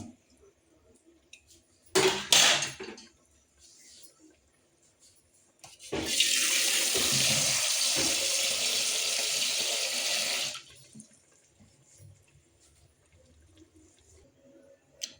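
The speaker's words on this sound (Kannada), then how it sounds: "ಮಿಕ್ಸ್ ಆದ ನಂತರ ಅದಕ್ಕೆ ಬೇಕಾದಷ್ಟು ನೀರನ್ನು ಹಾಕೋಣ" Water pours from a vessel into a cooking pot of vegetable pulao, a brief splash early, then a steady loud gushing stream for about four seconds before it stops, with faint kitchen clatter around it.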